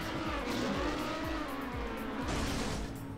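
Racing car engine in TrackMania, a steady loud drone with rising and falling pitch sweeps as the car shifts and revs, continuous for the whole span with a brief hiss of tire noise.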